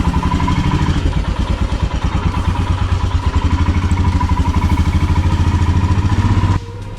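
A motorcycle rides along an empty Himalayan road on a cool morning, its engine a loud, close, steady throbbing rumble with fast, even pulses that drops abruptly in level near the end; no talking.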